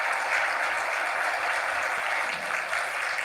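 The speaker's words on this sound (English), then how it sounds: "Standing ovation." Steady crowd applause, a standing ovation that fills the whole stretch at a constant moderate loudness with no speech on top.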